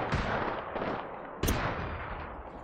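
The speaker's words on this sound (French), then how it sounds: "Je tire" Gunfire in the Apex Legends video game, a dense sustained burst of loud close shots with a sharper, louder crack midway through, continuing without pause and with no talking.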